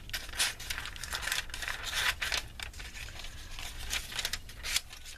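Paper from a magazine being cut and handled for cut-out pictures and quotes, with close, quiet snips, crinkles and rustles in an irregular run.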